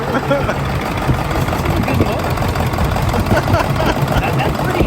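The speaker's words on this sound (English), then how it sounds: "it'll start to idle better and better and eventually start to idle really good" Ford 7.3 diesel engine idling, a loud, close, continuous low rumble with a rough knocking texture throughout, steady in level.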